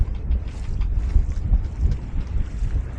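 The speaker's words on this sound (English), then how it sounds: "we're the only boat on Loch Lochy at the moment" A sailing boat on Loch Lochy in the Caledonian Canal, with gusty wind buffeting the microphone over a low rumbling wash of water and rigging noise.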